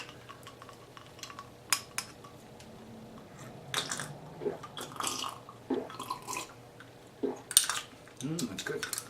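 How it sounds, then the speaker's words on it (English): A drink is stirred in a glass chemistry beaker, giving faint clinks and scraping taps at an irregular rhythm, with soft voices talking between the strokes. "Come on, stir."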